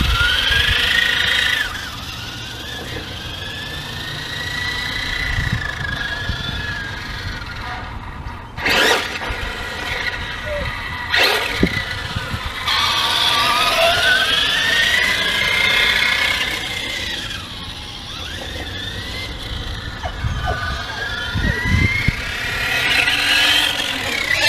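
An Axial Yeti XL Monster Buggy RC car drives with and without its sway bar, its electric motor whining in rising and falling sweeps, with tire scrubbing and a couple of sharp knocks.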